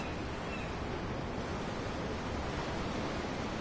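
Ocean waves in Tales of Arise, a continuous dense roar of surf at even loudness, with no voices over it.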